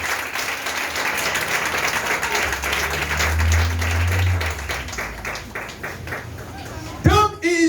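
A church congregation at a Pentecost service applauds and acclaims Jesus, with sustained clapping mixed with cheering and crowd noise, fairly loud and continuous, and a voice breaking in near the end.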